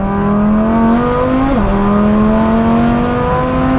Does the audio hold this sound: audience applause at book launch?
no